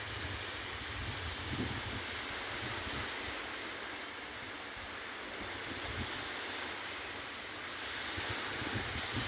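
Waves washing on a beach beside a group of visitors: a steady, fairly loud rush of surf mixed with wind buffeting the microphone, continuous throughout with no talk.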